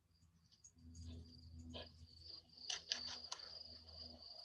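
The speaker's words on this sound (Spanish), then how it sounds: "Como unos grillos." Crickets chirp in high, rapid trills that swell and fade over a low background hum, heard faintly and without any talk.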